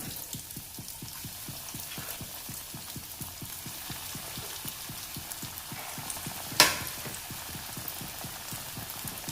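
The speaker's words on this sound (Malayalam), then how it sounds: "ഇനി ഇത് ഓരോന്നും ചൂടായ എണ്ണയിലേക്കിട്ട് മൊരിച്ചെടുക്കണം." Ripe banana snack pieces fry in hot oil with a continuous close crackling hiss, accompanied by a steady rhythmic pulse and one sharp click partway through.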